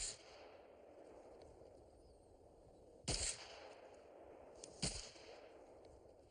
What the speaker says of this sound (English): Now you're going to have 4 rounds for this string of fire.